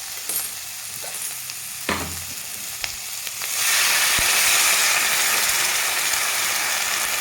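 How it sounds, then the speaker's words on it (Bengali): Ground spice paste hitting lightly fried onions with salt and turmeric in a hot pan: a few scrapes and clinks, then a loud, steady hiss of sizzling that fills the last half, close by. "এখন দিয়ে দিব পেস্ট করে রাখা মশলাটা"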